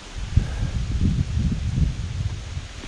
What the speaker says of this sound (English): when that wind's blowing like that and the trees are swaying back and forth